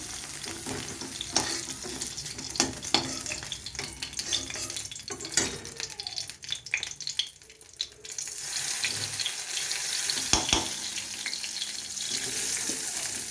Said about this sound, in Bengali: ওই কড়াইয়ের মধ্যে, ওই তেলের মধ্যে আমি ফোড়ন দিয়ে দেবো, 5 ফোড়ন আর পেঁয়াজটা